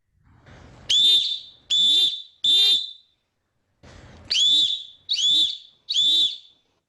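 A referee's whistle gives two sets of three sharp, shrill blasts separated by a short pause, loud and close, with faint breathy noise before each set.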